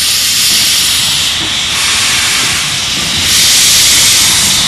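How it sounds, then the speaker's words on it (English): An Indian steam locomotive hisses out a loud, steady broadband rush of steam that swells slightly in the last second, close and continuous, with no voices. "The steam locomotive looks fascinating, it sounds fascinating, it breathes out a lot of fascinating things also."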